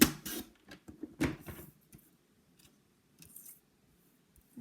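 Scissors snip through paper while a surprise gift box is made, a few sharp close cuts in quick bursts at the start, then softer scattered snips and rustles with pauses between.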